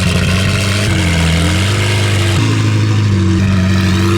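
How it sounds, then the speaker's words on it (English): A McLaren 720S supercar with a loud non-standard exhaust roars close by, a sustained, very loud engine drone whose pitch shifts up and down as it revs, with no talking over it. "I don't think that 720S has got a standard exhaust on it. That's crazy loud."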